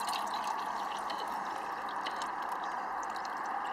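Water splashes and drips into a container holding mushrooms at a wild camp, with steady rain hissing on the Polish Army hobbit tent throughout; the liquid sounds are close and soft against the constant rain.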